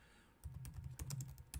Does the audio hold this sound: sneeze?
no